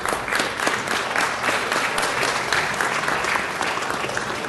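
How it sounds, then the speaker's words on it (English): Steady, sustained applause from a room of attendees at a city council meeting, honoring guests standing before the chamber, with dense overlapping claps holding an even level throughout and no talk. "Please give a warm round of applause for our guests standing with us today."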